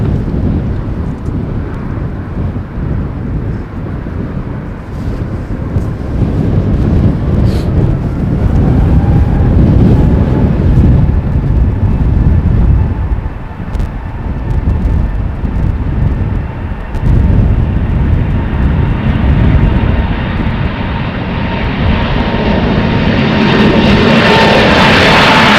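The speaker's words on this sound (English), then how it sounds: "the A320neo from Vueling is lined up and ready to go in a moment's notice" A Vueling Airbus A320neo takes off from runway 36L at Amsterdam Schiphol, a loud, sustained low engine roar building across the clip, heavily buffeted by wind on the microphone, with no voices.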